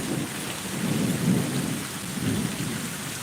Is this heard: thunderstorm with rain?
yes